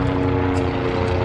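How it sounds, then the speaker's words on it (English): A helicopter flies overhead, giving a steady, loud rotor and engine drone that fills the whole moment without letting up, with no talking. "the helicopter"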